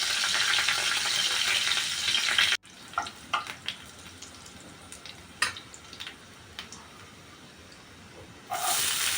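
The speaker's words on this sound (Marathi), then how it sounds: "तेल गरम झालं आता आपल्याला राई आणि मिरची टाकून घ्यायची आहे" Mustard seeds and green chillies hit hot oil in a pan for cauliflower bhurji. A loud hiss cuts off abruptly, scattered pops and crackles follow, then the loud sizzle returns at the end.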